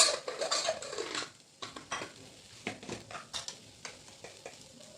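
Spices such as coriander powder, turmeric and chili powder being stirred into a cauliflower paratha filling in a bowl, with a run of close scraping and tapping strokes of a spoon against the dish, no talk.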